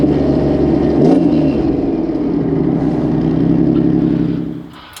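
Subaru WRX STI with a swapped EG33 six-cylinder and a big turbo, a loud, close engine roar revving hard with a climbing note before suddenly dropping off near the end.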